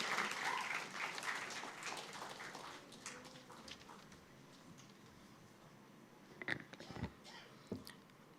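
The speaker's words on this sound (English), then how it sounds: "A big round of applause to her." Audience applause at a felicitation event honoring a table tennis player, starting fairly strong and gradually thinning to scattered, fainter claps with a few louder isolated ones near the end.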